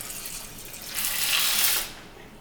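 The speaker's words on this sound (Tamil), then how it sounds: "நம்ம அதில் வந்து தண்ணி ஊற்றி வச்சிடலாம்" Water pours from a tap over soaking chana dal, fenugreek seeds, corn and rice in a bowl, a steady hiss that swells for about a second and then tapers off, close and moderately loud.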